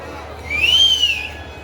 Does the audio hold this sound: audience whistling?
yes